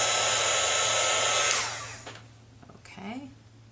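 A heat tool blasts a loud, steady blowing roar over embossing powder on a die cut for about a second and a half, then switches off, leaving quiet handling and a faint voice.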